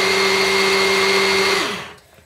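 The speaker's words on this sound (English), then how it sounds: "If you want to know about my mixer, it's a Cuisinart Smart Stick, and this also has an immersion blender" A Cuisinart Smart Stick immersion blender whirs steadily at high speed while mixing a moisturizing oil blend, then drops in pitch and cuts off, leaving near silence at the end.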